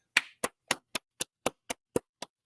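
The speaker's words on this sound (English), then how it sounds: "We want to clap." A few hands clapping slowly at a live comedy raffle event, nine separate close, crisp claps in a steady, deliberate rhythm, fading slightly toward the end, with no talking.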